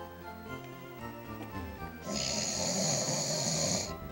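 Drawn-out snoring breaths heard after Jigglypuff sings in Pokemon Leaf Green, close and steady, starting over game music and then swelling louder. A voice may be imitating the snore.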